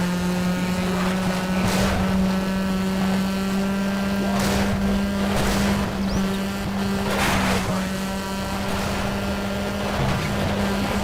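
A rally car in the Sega Rally video game drives through puddles, its engine a loud steady drone with repeated whooshing splashes every second or two.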